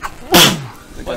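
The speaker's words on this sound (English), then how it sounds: "That was a sneeze." A single sharp sneeze bursts out close to the microphone, brief and loud, with a faint voice just after.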